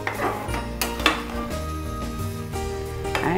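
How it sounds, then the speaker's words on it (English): A quick stir of paneer bhurji with green chilies and coriander in a metal pan, with a few sharp clinks of a spoon against the pan over a soft steady sizzle. "we'll add the coriander, garnishing, give it a quick stir"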